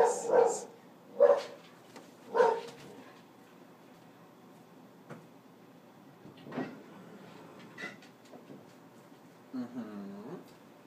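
Three loud, sharp dog barks close by at the start, then quieter knocks and faint voices in a hushed room.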